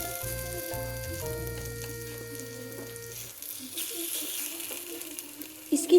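Pakoras fry in a pan with a little ghee for a low-ghee recipe, a soft steady sizzle hissing throughout, partly under tonal music at the start and ending with a louder crackle.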